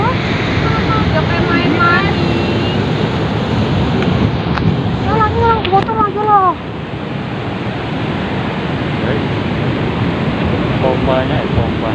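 Big ocean waves roar and wash in at Karapyak beach, Pangandaran, West Java, in a loud, continuous broadband rush. Wind buffets the microphone, and faint voices and birdlike chirps come through briefly over the surf.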